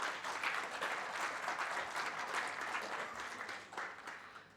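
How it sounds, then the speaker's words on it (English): A seminar audience applauds the adventure tourism association ATOAI, a steady wash of clapping at moderate distance that holds for several seconds and then begins to thin out. "give a big round of applause for ATOAI"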